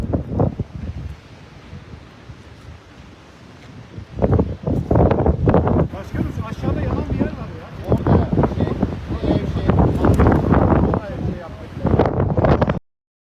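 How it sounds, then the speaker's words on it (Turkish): Strong gusting wind buffets the microphone on a mountainside during a forest fire in Muğla, Turkey, with loud rumbling bursts and rustling, and voices talking under it. "Yoksa yangın dağda aşırı şiddetli rüzgar var."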